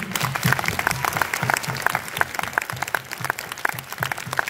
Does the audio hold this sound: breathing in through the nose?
no